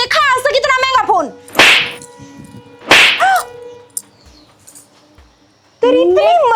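Two sharp slaps across the face ring out in a Haryanvi-Rajasthani domestic drama, crisp isolated cracks spaced about a second apart, with heated talk before and after.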